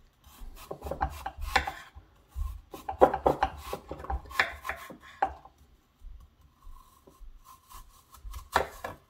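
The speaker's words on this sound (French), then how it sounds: "On coupe en deux les pommes, Et on va venir les couper en petits cubes." A knife cuts halved apples into small cubes on a board, giving close, irregular bursts of crisp chopping and scraping taps separated by short pauses.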